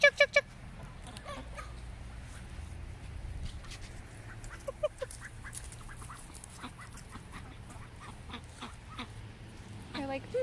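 Chickens calling in short clucks and quacky bursts scattered over a low steady background, with a few louder calls at the start.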